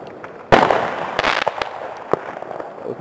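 Fireworks bursting at Dofok: a loud sudden blast followed by crackling, popping and a few sharp later bangs, close and outdoors with no speech.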